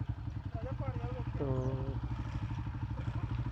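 Motorcycle engine idling steadily nearby at a river border crossing while the bike is loaded onto a hand-pulled wooden boat, with someone speaking over the continuous low rumble.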